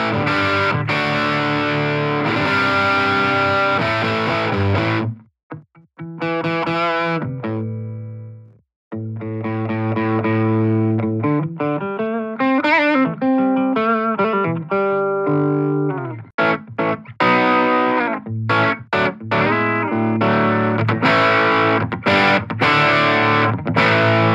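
Distorted electric guitar through a Line 6 Catalyst 60W combo amp plays chords and riffs, with a brief pause near the start and notes ringing out between strums.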